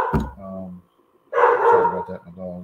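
Dogs bark and yip sharply in short bursts, agitated by fireworks, close and loud, with a brief pause between outbursts and some whining.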